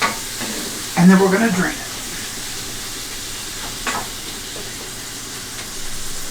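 Ground meat seasoned with Italian seasoning sizzles steadily in a pan on a gas stove, a soft continuous frying hiss with brief stirring scrapes, while a person talks over it.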